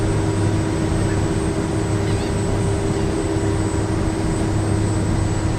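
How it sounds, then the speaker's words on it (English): A small helicopter takes off near rice dryers along Louisiana's Creole Nature Trail, heard as a loud, continuous engine and rotor drone with steady humming tones and no gaps. "There's a little helicopter taking off,"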